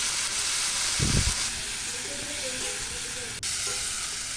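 Cauliflower frying in oil produces a steady hiss and sizzle close by, with a short thump near the start and a brief break later, and no clear talking.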